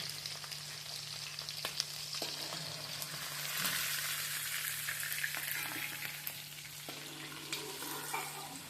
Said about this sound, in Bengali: এবার আমি চিংড়ি মাছগুলোকে হালকা করে ভেজে নেব